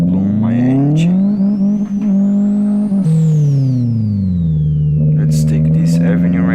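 A VW Saveiro 1.6 single-turbo with forged internals in Live for Speed, its engine loud and close, holding a steady drone that climbs and falls with revs, with a brief sharp surge midway while someone talks over it.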